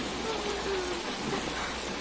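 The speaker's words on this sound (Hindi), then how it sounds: "मूसलाधार बारिश हो रही थी" Heavy rain pouring down in a dense, even hiss that stays constant throughout, close and fairly loud.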